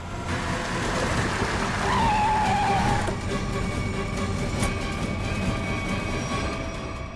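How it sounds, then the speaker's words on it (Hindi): A car brakes hard and skids to a stop during a chase, a thin tire squeal rising over steady road and engine noise for about a second before the rumble carries on. "गाड़ी रोक रोक रोक रोक रोक।"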